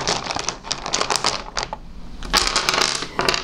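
Small colored cubes click and clatter together as they are handled, a dense run of light taps and rattles close up with a brief lull midway.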